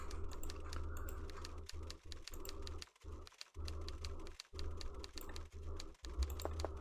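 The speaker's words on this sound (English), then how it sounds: "Sound of typing." Keys tapped in rapid, uneven bursts on a keyboard in a Nancy Drew video game, with brief pauses between runs of strokes over a steady low background hum.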